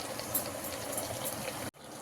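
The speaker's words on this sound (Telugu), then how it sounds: "ఇప్పుడు దీంట్లో వేడి నీళ్ళు వేసేసుకోవాలి." Hot water pours into a pot of biryani masala for Karnataka-style chicken donne biryani, a steady close rush of liquid that stops abruptly near the end.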